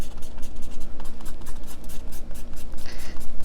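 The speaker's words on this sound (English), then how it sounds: "I'll take my kneaded eraser and I'll erase most of the lines." A kneaded eraser rubs over pencil sketch lines on watercolor paper, giving a close, loud, rhythmic scrubbing and scratching with no voices.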